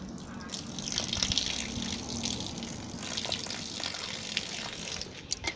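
Water poured into a bowl of gari (cassava granules) to make water gari, a steady gushing pour running throughout at moderate level with faint background noise.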